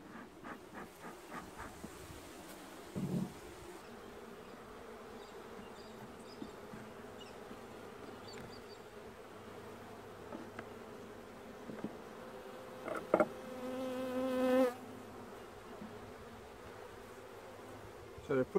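Honey bees buzz steadily in an opened nucleus hive, close and continuous, with a few louder passes of individual bees near the end.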